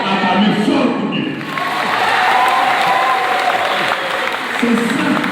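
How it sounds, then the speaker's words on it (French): A church congregation at a Sunday Mass for the Blessed Sacrament at the Beni sanctuary bursts into sustained applause and cheering, a dense, loud crowd roar holding steady for several seconds with scattered shouts rising above it. "Acclamez fort pour Dieu."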